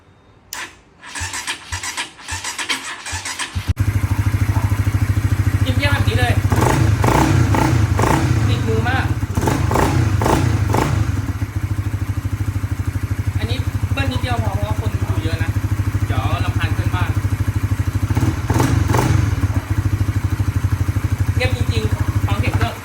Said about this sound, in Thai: เดี๋ยวจะลองสตาร์ทให้ดูนะ สตาร์ทให้ฟังดู